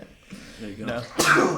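A single sharp sneeze bursts out near the end, loud and close, following casual talk between men.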